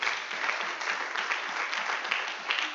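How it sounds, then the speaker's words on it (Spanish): A church congregation breaks into sustained, fairly loud applause, a dense even patter of many hands lasting a few seconds with no voices over it. "Denle un aplauso al rey."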